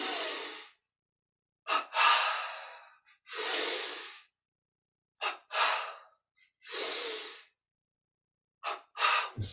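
Deep slow inhalations and exhalations during a guided muscle-tension breathing exercise, several long airy breaths separated by silent pauses, close and clear with no speech.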